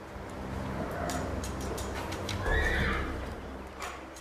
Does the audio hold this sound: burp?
no